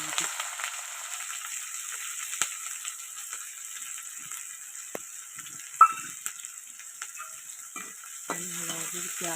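Cumin seeds frying in a pan while making aloo parathas: a soft, steady sizzle with occasional light clinks of a spoon stirring against the pan, close and fairly quiet.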